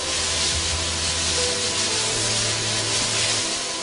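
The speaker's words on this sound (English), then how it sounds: "It is pesticides being sprayed on grape vineyards in Nasik." Pesticide spray drifts over grape vineyards in Nasik, a steady broad hiss of spraying that holds at an even level throughout with a low mechanical hum beneath, and no voices.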